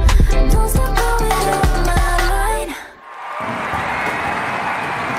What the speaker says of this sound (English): Oh, they really got a live crowd for this.